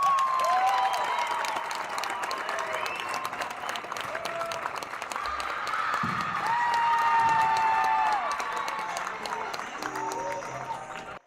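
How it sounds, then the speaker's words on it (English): Loud, sustained crowd applause mixed with cheers and whoops fills a high school volleyball gym after an OHSAA regional final between Marlington and Holy Name, holding steady for about eleven seconds with voices shouting throughout. "And let's have a good round of applause for all of them."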